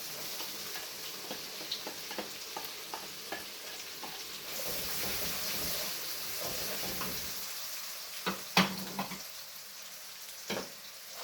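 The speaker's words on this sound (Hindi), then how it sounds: "और साथ ही जो है ये अनियन डाल देते हैं इसमें।" Onions fry in hot oil in a pan for a lamb shank curry, with a steady close sizzle, occasional stirring clicks and a few sharper pops toward the end.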